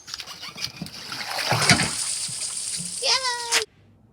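Water tipped out of a dog's water bowl: a sudden splashing pour that spills and trickles for a couple of seconds, close by, with people talking around it.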